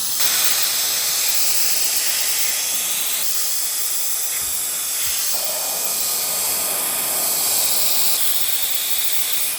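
PECODE electric air duster blowing dust, a loud, continuous high-pitched rushing hiss of air from its motor that runs unbroken and close for nearly ten seconds.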